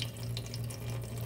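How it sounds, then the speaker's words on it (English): Tap water runs steadily into a container held over a sink in a chemistry setup for collecting hydrogen, a continuous close splashing flow with a low hum beneath. "as this is filling with water"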